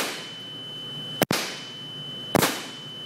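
An Angel A1 paintball marker fitted with its stock bolt fires two sharp, loud cracks about a second apart, each trailing off over a steady hiss.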